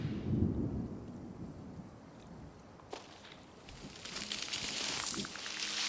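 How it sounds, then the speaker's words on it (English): Rain and thunder set off by cloud seeders in the video game Terra Nil: a low rumble opens, then a steady, rising hiss of rainfall swells in partway through and keeps going to the end, with no talking. "And you can hear the rain coming now."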